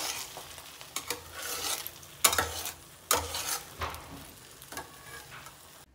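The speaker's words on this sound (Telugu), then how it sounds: "కొన్ని ఎగ్స్ అయితే ఇలా ఆయిల్లో వేయించుకుంటున్నాను" Eggs frying in hot oil with salt and chili, a steady broadband sizzle with a few sharp spatters and stirring scrapes, close and moderately loud, no voices.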